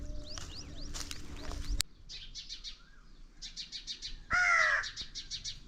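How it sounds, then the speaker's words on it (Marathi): A crow caws in the morning just outside the front door in harsh bursts of three or four, repeated several times, with smaller birds chirping earlier. "कावळा आपलं सकाळ सकाळ आज दारापुढं समोर वरडायला लागलाय"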